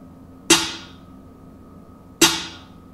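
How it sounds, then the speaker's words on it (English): Two sharp, bright snare hits sampled in a hip-hop trap beat, evenly spaced about a second and a half apart, each with a short decaying tail, heard alone without talk. "Then I added the snare to it."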